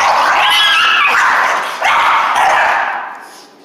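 Dogs from a high prey drive breed barking and yelping close and loud in an excited, continuous burst that fades at the end.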